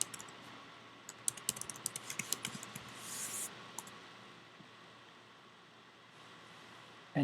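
Keys tapped on a computer keyboard while a terminal command is entered, a quick burst of light clicks over a faint steady hiss, alone with no voices.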